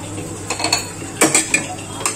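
Boiled black-eyed peas tipped into a pan of onion masala, with a spoon clinking and scraping against the metal pan in several sharp, close knocks.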